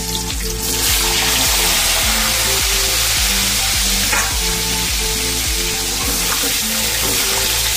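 Boiled potatoes fry in hot oil with spices, giving a loud, steady sizzle and occasional stirring over soft background music.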